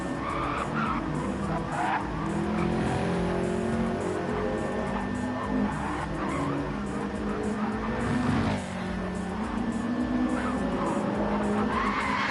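Touring race cars at a WTCC round on the Catalunya National circuit cross the finish line, engines roaring steadily and close with tyre skids and squeals through a continuous dense wash of motor noise.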